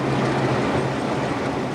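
A diesel train on the White Pass and Yukon Route Railway, a steep mountain line, rumbles steadily and loudly with a constant rolling roar and faint wheel clatter throughout.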